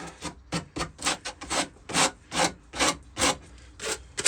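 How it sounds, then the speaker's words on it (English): Rough hand sanding of salvaged scrap wood for a boat galley: a series of about a dozen scratchy, rhythmic strokes at close range, each a short broadband rasp with brief pauses between, no voices. "Just give this like a rough sand."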